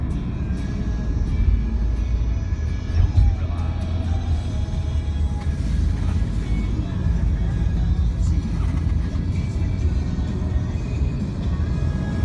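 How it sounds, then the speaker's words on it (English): Steady low road rumble of a car driving across a bridge over the Yangtze River in China, a continuous even drone with no speech. "We're driving on a bridge over the Yangtze."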